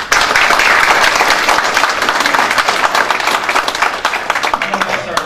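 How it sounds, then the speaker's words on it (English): Loud, dense applause from an audience at a city council meeting, sustained throughout with steady clapping and slight thinning toward the end. "So let's give her a big round of applause."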